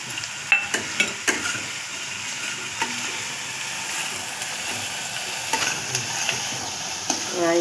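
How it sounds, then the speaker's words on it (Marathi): Mustard seeds and cumin hit hot oil with fried onions for upma. A steady close sizzle is broken by sharp pops and crackles, with the clink of stirring against the pan. "राई जिरा टाकूया।"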